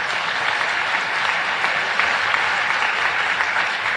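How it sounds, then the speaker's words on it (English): Steady, dense applause from a large audience at a United Nations event, filling the whole stretch evenly with no talk over it. "Do applaud that."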